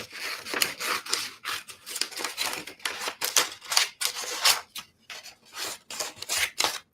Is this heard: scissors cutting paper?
yes